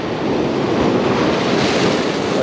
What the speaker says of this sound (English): Just keep an eye on the waves at all times.